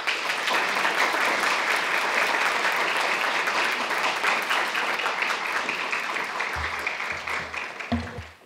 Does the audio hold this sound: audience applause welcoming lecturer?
yes